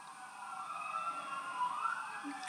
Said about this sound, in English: I've got siren.